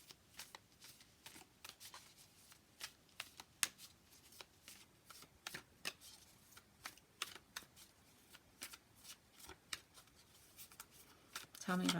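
Tarot cards being shuffled by hand, a quick run of crisp riffling snaps and soft slaps with an uneven rhythm, close and fairly quiet over about twelve seconds with light background sound.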